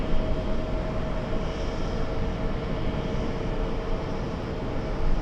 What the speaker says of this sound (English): We'll zoom in to the Delta Airlines 737.